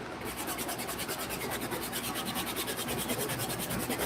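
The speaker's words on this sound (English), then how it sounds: "re-nap the suede using the dry medium bristle brush once again" A dry medium-bristle brush re-naps a suede shoe with fast, rhythmic back-and-forth scrubbing strokes, close and steady throughout.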